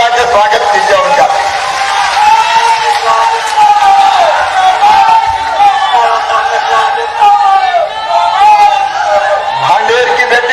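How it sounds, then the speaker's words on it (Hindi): A political rally crowd in Madhya Pradesh greets the state home minister with steady, loud applause and cheering. A dense wash of clapping and voices continues evenly throughout, with a prominent tonal voice riding over the crowd noise. "तालियां बजा के स्वागत कीजिए उनका"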